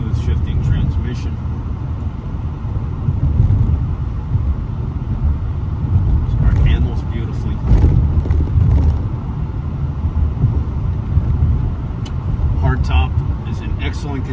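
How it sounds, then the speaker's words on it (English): A 2000 Mercedes-Benz SL600 on the move gives a low, steady engine and road drone throughout, with faint wind noise and a voice talking over it. "The engine in this car is so quiet."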